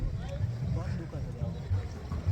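A boat ride on a lake at Mount Abu, with a steady low rumble of the boat and water running throughout and voices talking over it.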